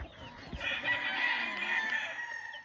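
Game-farm chickens with a mother hen and her young chicks, soft clucking and high cheeping from the flock, fairly faint and steady against a quiet outdoor background.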